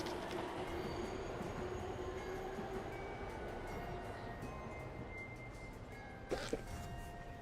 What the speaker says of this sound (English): Well, that's the second train.